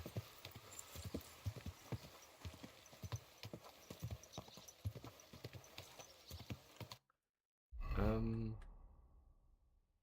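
Horse hooves clip-clop steadily in Kingdom Come: Deliverance II, a quick rhythmic trot up close over ambient noise, then a brief silence before a loud horse whinny or snort.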